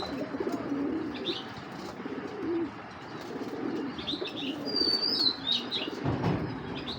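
Giribaz high flyer pigeons coo softly in a low, throaty pattern, mixed with faint chirps and a brief flutter of wings, all fairly quiet and close with no speech.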